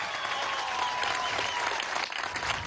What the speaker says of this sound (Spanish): Vamos a darle un aplauso a Tarek,